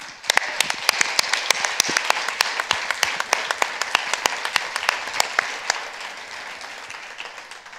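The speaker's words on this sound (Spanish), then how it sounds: "Yo pido un aplauso para Manuel García." Audience applause at a World Press Freedom Day 2017 event in Spanish, a dense, steady burst of many hands clapping that carries on for several seconds before thinning out.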